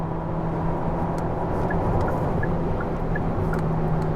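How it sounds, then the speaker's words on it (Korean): A new Hyundai Sonata accelerating with the pedal floored, heard from the cabin as a steady, loud, straining engine drone with road noise, constant throughout and without talk. "가속 페달을 끝까지 밟았을 때 느낌은 이렇다는 거죠"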